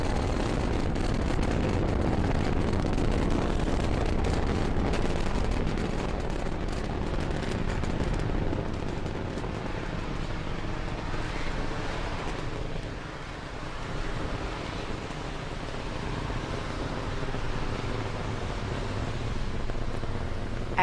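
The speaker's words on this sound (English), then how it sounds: "Falcon 9 has successfully cleared the pad and is now on its ascent with the TESS spacecraft in its fairing." A SpaceX Falcon 9 rocket ascending after launch with the TESS spacecraft aboard, a broad continuous low rumbling roar that holds steady throughout, loud and distant, with no talk.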